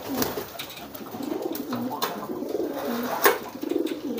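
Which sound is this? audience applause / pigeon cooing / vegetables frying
pigeon cooing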